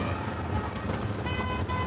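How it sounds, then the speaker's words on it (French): A car horn honks on a city street amid a steady wash of traffic and wind, the bright sustained toot rising out of the road noise in the second half. "Qui nous klaxonne?"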